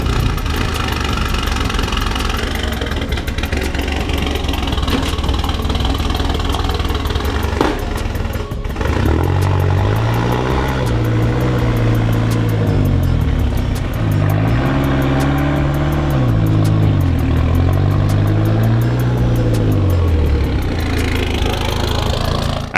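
A garage-built mid-engine Mitsubishi Eclipse with a turbocharged 4G63 engine runs at 25 psi of boost on a dyno. It drones steadily and loudly throughout, then its revs rise and fall in repeated sweeping pulls.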